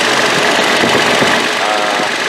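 Toyota Tacoma engine running with the AC compressor engaged, giving a loud, steady broadband hum and rumble that holds without change throughout.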